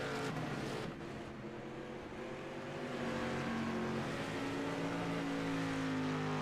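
Race cars circling a track, heard as a continuous droning engine roar with slowly shifting pitch, fairly distant and even in level and building slightly partway through.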